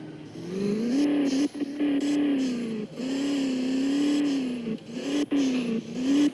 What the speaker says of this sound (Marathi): सारखी अडकते डिफेंडर.